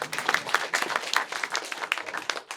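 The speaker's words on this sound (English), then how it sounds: "Guys, round of applause for Asia." Audience at a Los Angeles panel clapping for a speaker, a brisk burst of many hands with sharp individual claps standing out, fairly close and continuous throughout.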